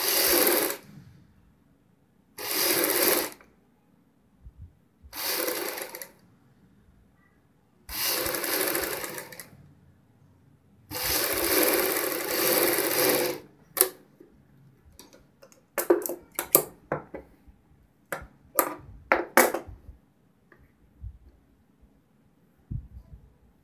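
A sewing machine stitches a doubled neck strip onto a kurti front in five short bursts of close mechanical whirring, followed by scattered ticks and clicks of fabric handling and machine adjustment.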